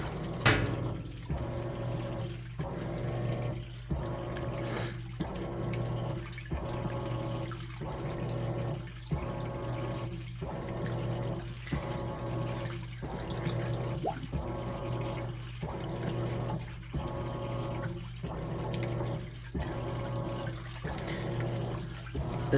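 Amana NTW4519JW2 top-load washer agitating clothes in a good amount of water on an auto-sensing speed wash cycle, a steady rhythmic swish-and-slosh repeating about every second over a constant motor hum, close and continuous with no talking.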